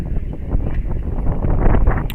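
A steady breeze of up to about 25 mph blows across a high school softball field, making a continuous low, muffled rumble against the microphone with slight swells.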